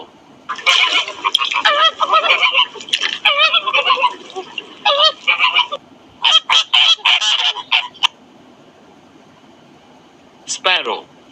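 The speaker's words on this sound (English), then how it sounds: "Flamingo." Flamingos give loud, nasal, goose-like honking calls in rapid repeated bursts, with short pauses between volleys and one last brief outburst near the end.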